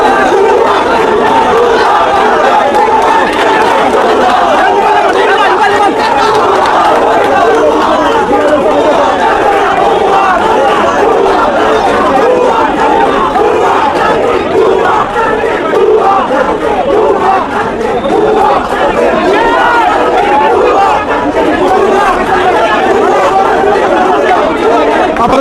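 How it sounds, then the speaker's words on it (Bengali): A large crowd of students at a political rally keeps up a continuous, loud chant of mocking "fake" slogans for the whole stretch, many voices blending into dense, steady shouting with chatter underneath. "তার অপর পাশে কিন্তু শিক্ষার্থী যারা রয়েছে তারা কিন্তু ভুয়া ভুয়া স্লোগান দিচ্ছে"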